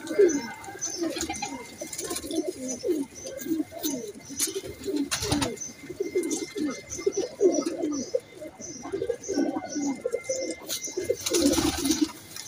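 Many pigeons cooing continuously nearby, overlapping soft throaty calls with occasional chirps and a brief flutter of wings.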